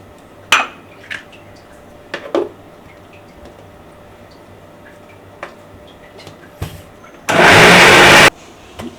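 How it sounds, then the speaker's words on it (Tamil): Mixer grinder blending mint, coriander, curd and pink salt into green chutney: a single loud, dense whirring burst of about a second, preceded by scattered clinks and knocks of kitchenware. "இப்போ அரைச்சாச்சு."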